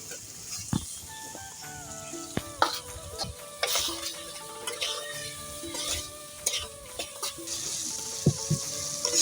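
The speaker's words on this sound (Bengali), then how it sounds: "আলুগুলো আমি ভালোভাবে মশলার সাথে কষিয়ে নিয়েছি।" Fried potatoes are tossed with spice masala in a pan, a soft sizzle under repeated spatula scrapes and knocks, fairly quiet and close with faint music in the background.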